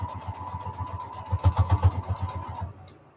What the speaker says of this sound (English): We're sewing.